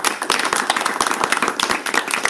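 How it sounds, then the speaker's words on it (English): A small group claps sharply and close by around a Halloween campfire, a brief burst of quick, uneven hand claps with no talking. "Can we get a round of applause for Chase, everybody?"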